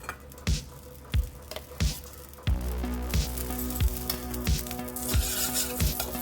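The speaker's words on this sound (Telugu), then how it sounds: "ఈ నెయ్యి మొత్తం మనకి మెల్ట్ అయిపోవాలి." Ghee melting and sizzling in a kadai, a steady frying hiss with repeated soft thumps and clinks of a utensil against the pan, close and moderately loud with no talk.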